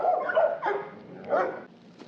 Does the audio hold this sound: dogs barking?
yes